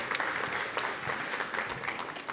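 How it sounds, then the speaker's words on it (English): Audience applause at a startup founders' pitch evening in London, a sustained crowd of hands clapping with scattered crisp individual claps, steady and moderately loud with no talk. "Round of applause for Isaac."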